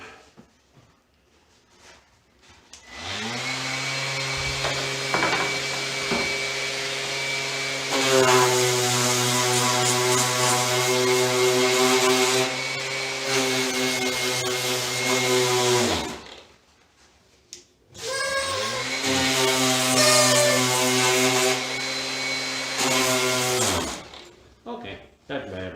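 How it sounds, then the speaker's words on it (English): An orbital sander with 120 grit paper works over a marine epoxy crack repair on a boat, running in two long loud whirring passes with a steady buzzing tone and a short pause between them. "I am going to take my orbital sander to it."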